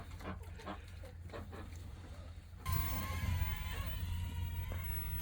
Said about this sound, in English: Little pigs enjoying the grain.